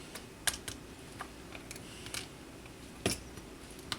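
A razor blade trims a plastic Sunny D bottle on a cutting board, making a few sharp, close clicks and scrapes spread across a quiet background with no talk.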